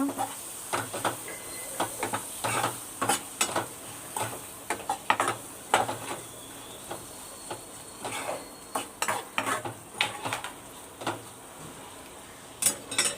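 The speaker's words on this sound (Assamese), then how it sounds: "বিলাহী ধুনীয়াকৈ ভাজি ল'ব লাগিব, নহ'লে এটা কেঁচা গোন্ধ আহিব।" Tomatoes fry in oil in a pan while a metal spoon stirs them, making frequent irregular clinks and scrapes over a faint, steady sizzle; no one speaks.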